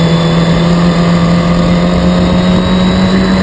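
Historic Formula Ford race cars at Snetterton circuit in 2014, a loud, steady, close engine drone holding one pitch throughout, with no break in the noise.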